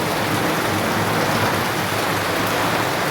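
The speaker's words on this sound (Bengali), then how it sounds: "দেখতেই পাচ্ছেন প্রচণ্ড করে বৃষ্টি হচ্ছে তার সঙ্গে হাওয়া হচ্ছে" Heavy rain pours with wind during a storm in Basirhat, North 24 Parganas, a dense, constant hiss, steady and loud with no pauses.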